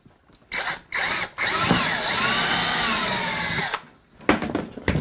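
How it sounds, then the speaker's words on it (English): A power drill bores a hole through the bottom of a briefcase, opening with several short bursts and then settling into one long, loud, steady grind before stopping. Rattling handling noises follow. "I'm going to very carefully drill a hole in the bottom of our briefcase."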